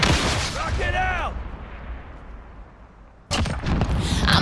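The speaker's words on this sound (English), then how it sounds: "Rocket out." A rocket fires and blows up in a shooter video game, with a whooshing launch rumble fading down and then a sudden loud blast and crackle near the end, after a brief stretch of voiced sound at the start.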